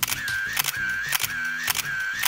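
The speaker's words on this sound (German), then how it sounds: "Und dann kann man auch schon Fotos machen." A film camera firing its shutter four times in steady succession, each sharp click followed by a whirring motor wind, close and clear with no talk.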